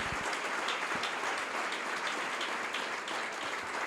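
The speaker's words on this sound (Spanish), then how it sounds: "Fuerte el aplauso al Señor" A church congregation applauds for the Lord in a steady wash of clapping, fairly soft and distant, running evenly for the whole four seconds.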